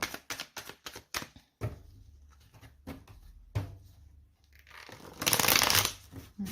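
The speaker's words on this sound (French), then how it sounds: "Allez, on va poser les 11 cartes" Tarot cards being laid out for an astrology reading: a quick series of crisp card slaps and slides, then a louder, longer shuffling rustle near the end, close and fairly loud with no talk.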